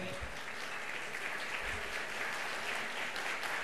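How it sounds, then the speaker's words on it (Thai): Steady, broad applause from an audience at a Thai lecture hall, a dense continuous wash of many hands clapping at moderate distance, with no speech over it. "ต้องขอปรบมือให้กับน้องเล็ก"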